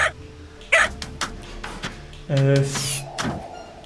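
A single dog bark rings out mid-clip, loud and close, amid scattered thuds and clatter in the video game Space Tail, where barking makes loud noise to open a door.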